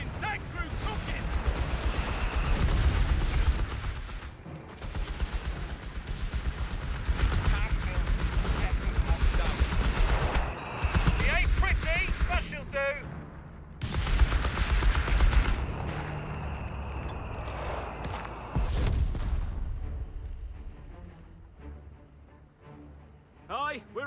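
Dense gunfire and artillery fire rage in a Company of Heroes 3 battle on a forest map, with loud, continuous machine-gun rattle and heavy blasts, a short lull, then renewed fire under shouted voices.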